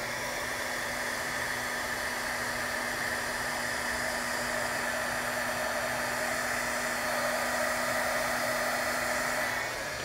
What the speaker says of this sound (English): You take your heat gun and you heat it up a bit